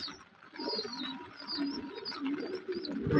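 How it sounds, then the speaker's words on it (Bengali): Pigeons coo softly and repeatedly, a low burbling close by, with faint chirps and light background hiss. "বৃষ্টিতে ভিজে ভিজে দেখুন পায়রা খাওয়াচ্ছে।"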